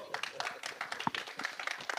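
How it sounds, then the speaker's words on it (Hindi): Sparse, scattered claps from an audience at a film trailer launch, uneven and fairly quiet, with murmuring voices mixed in. "तो एक बार इस बात के लिए तालियां हो जाए"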